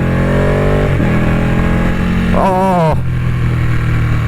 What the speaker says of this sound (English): listen to that Ducati sound